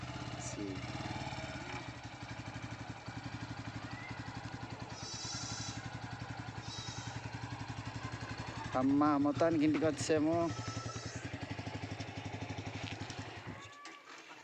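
A new 2024 Bajaj Pulsar N150 motorcycle engine idles with a steady low rumble close by, while people talk over it and a brief higher burst of voices or noise rises midway.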